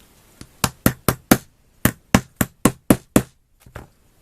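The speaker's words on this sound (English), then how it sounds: "it definitely helps to have a hammer when doing this" A hammer strikes wood again and again while a catapult is being built: about a dozen sharp, close, loud blows in a quick, even rhythm with a short pause near the middle.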